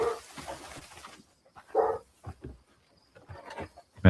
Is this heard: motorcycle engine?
no